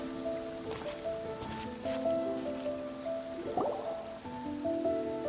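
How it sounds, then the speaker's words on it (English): Rain falls steadily in a courtyard in the video game Genshin Impact, a soft continuous patter beneath sustained tones of gentle background music. "I love listening to the rain from the courtyard."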